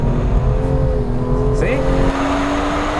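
A BMW M2 engine hums steadily and loudly at the Laguna Seca track, its pitch climbing as the car rotates out of a corner on the throttle, with someone talking over it.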